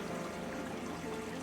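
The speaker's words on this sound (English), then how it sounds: "I can finish pouring this water in here" Dirty water from a Fluval FX4 canister filter pours steadily into a bucket, a continuous close splashing stream without pause.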